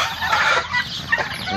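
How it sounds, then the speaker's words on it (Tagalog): Close, busy clucking and chattering from several egg-laying turkeys, overlapping in a continuous fowl chorus. "Ito yung mga nangingitlog na pabo."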